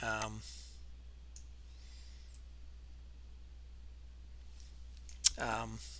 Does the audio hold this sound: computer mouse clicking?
yes